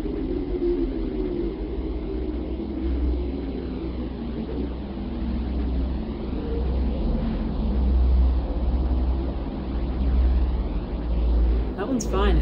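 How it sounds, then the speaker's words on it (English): Space recording of Earth resembling a steady jet airplane cabin drone: continuous low rumble and broad airy hiss at even loudness, with no clear events. "It sounds like an airplane cabin."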